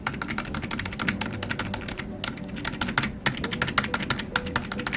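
Rapid typing on a computer keyboard, dense clacky keystrokes close to the mic, with a couple of brief pauses.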